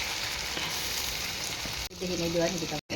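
Potatoes coated in fish masala sizzle in a pan while taki fish fries in a Bengali village-style recipe, a steady loud hiss broken by a brief dip and a short voice near the end.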